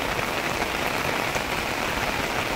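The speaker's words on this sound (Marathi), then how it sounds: "पाऊस आहे भरपूर. नुकताच पाऊस चालू झाला आहे बघा समोर" Heavy rain pours steadily near waterfalls in the Khandi Maval area close to Pune, a dense, even hiss of drops hitting surfaces all around, loud and unbroken, with no voices.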